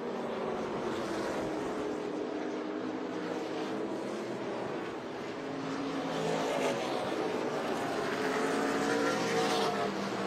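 ARCA Menards Series East race cars powering off turn four at Five Flags Speedway, a continuous engine roar at moderate distance that swells slightly toward the end, with no voices.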